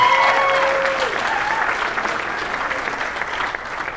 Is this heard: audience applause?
yes